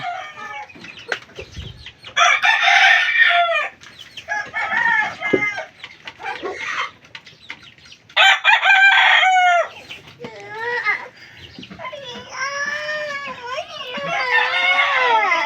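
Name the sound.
talisay gamecock rooster crowing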